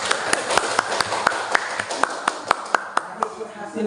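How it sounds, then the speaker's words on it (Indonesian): A classroom of students claps for a group in a quick, regular rhythm of sharp, distinct beats, fairly close, before the clapping tapers off near the end. "tepuk tangan untuk kelompok 2"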